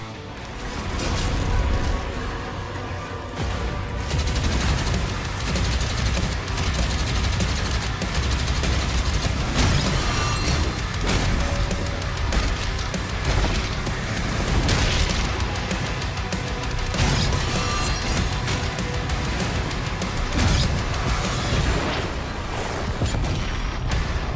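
Dense combat from the video game Doom: The Dark Ages, with relentless gunfire, metallic clanks and grinding mechanical crunches layered into a loud, continuous barrage without pause.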